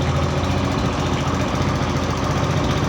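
A Honda Livo 125 BS6 motorcycle engine runs close by with a loud, steady idling chug and an even mechanical rhythm throughout, with no talking.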